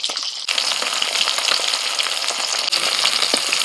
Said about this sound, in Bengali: মাছগুলোকে ভেজে নিয়ে তুলে নিচ্ছি।